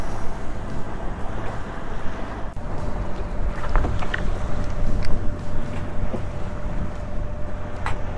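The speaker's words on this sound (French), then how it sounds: "Il y a du vent" Steady wind rushes and buffets the microphone aboard a sailboat, with faint creaks and knocks under a constant low roar.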